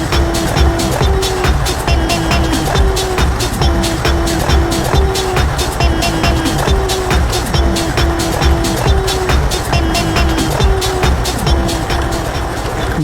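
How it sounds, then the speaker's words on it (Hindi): A motorcycle engine with its rear tyre coupled to a water pump motor's wheel runs loud and close, a steady droning roar with rapid rhythmic pulsing and a whining tone throughout, no talk. "बाइक की मदद से मोटर चलना शुरू हो गई है"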